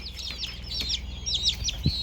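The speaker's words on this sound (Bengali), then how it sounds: "তো এটা হচ্ছে হোয়াইট টেল জাপানিজ বেনথাম অত্যন্ত ডিমান্ডফুল একটা মুরগি" A White Tail Japanese Bantam chick gives a rapid series of high, thin peeps, close and fairly loud, with a soft thump near the end.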